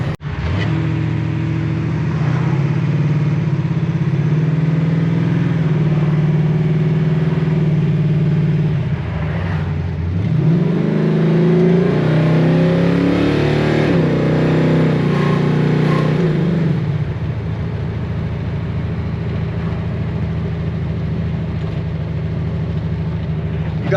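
A 1968 Chevelle SS engine idles with a steady low rumble, rises into a couple of revs mid-way, then settles back to a smooth idle, loud and close.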